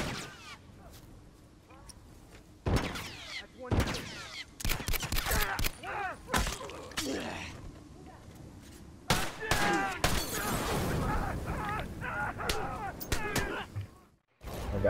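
Gunfire in The Last of Us: scattered sharp shots and short bursts ring out one after another, loud and close at times, interrupted by quieter gaps, with a voice heard faintly over parts.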